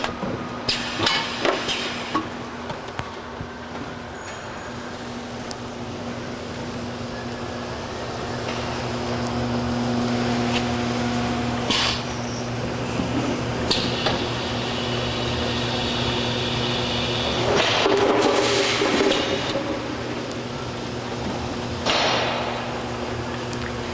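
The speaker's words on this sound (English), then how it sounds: "They then feed into a 10-head overflow filler." A 10-head overflow filler runs on a liquid filling line for cleaning solution, giving a steady mechanical hum with sharp metallic clanks and bursts of hissing.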